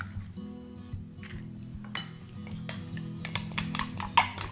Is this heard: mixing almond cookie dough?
yes